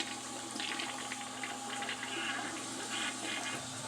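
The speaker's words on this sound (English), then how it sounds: "I'm gonna go ahead and flush this down" A household toilet flushing after a cleaning fizzy tablet was used, steady rushing and gurgling water running continuously at moderate level without speech.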